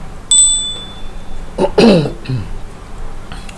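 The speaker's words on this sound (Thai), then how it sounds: "เดี๋ยวอาจารย์จะสั่นกระดิ่งโชคลาภแห่งความสำเร็จ" A small hand bell rung for luck gives a bright, clear ding that rings out briefly. A throaty vocal sound and faint background noise follow it.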